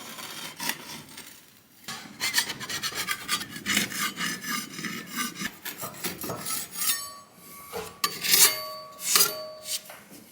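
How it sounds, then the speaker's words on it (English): A scraper rasps old paint off woodwork, close and continuous, in rapid rough strokes with a few brief metallic scrapes near the end. "Let's give it a good scrape anyway."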